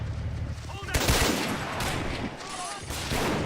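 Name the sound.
gunfire from a German soldier in the video game Men of War Assault Squad 2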